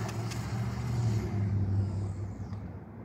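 A Traxxas Bandit VXL radio-controlled car on street tires makes a full-throttle speed pass. A continuous motor rumble builds, then the high end fades as it runs away into the distance.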